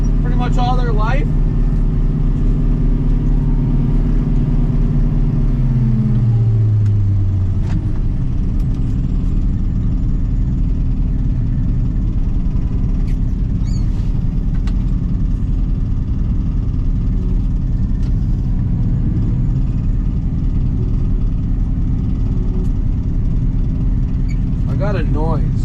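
A forage chopper engine runs wide open with a loud, continuous drone. Its pitch sweeps downward about a quarter of the way in, then settles into a steady heavy hum with occasional clanks.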